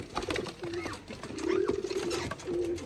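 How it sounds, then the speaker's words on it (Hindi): A white-eyed pigeon coos close by, repeating soft low throaty calls in short bursts against outdoor background noise. "वाइट आंखों का कबूतर है, बहुत उड़ते हैं माशाल्लाह"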